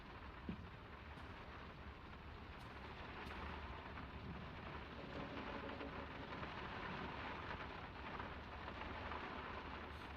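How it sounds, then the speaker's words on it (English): Steady heavy rain and rolling thunder in the game Draugen, a dense constant downpour hiss with faint distant rumbles, no voices. "It's really coming down. How about a quick run in the rain?"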